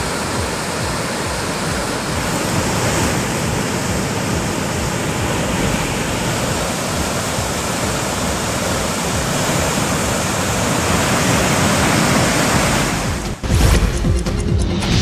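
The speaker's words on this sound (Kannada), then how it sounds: "ಭದ್ರಾ ನದಿ ಹರಿವಿನಲ್ಲಿ ಭಾರಿ ಏರಿಕೆ ಆಗಿದ್ದು ಹೆಬ್ಬಾಳೆ ಸೇತುವೆ ಮುಳುಗಡೆ ಆಗಿದೆ" Floodwater of the swollen Bhadra river rushes near the submerged Hebbale bridge in Chikkamagaluru. It makes a loud, continuous roar, with a brief thump and disturbance near the end.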